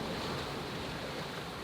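Wind and waves rush around a sailboat under way off St Vincent, a steady, fairly faint broadband roar with buffeting wind noise on the microphone and no talking.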